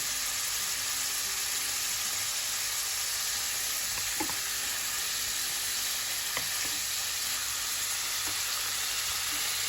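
Beef entrecote pieces cook in a pot with a constant, bright sizzling hiss, steady and close, with a couple of faint stirring clinks partway through and no voices.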